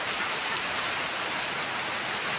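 Heavy rain pours steadily and loudly on surfaces outdoors near a mango tree, a dense continuous hiss with no pauses.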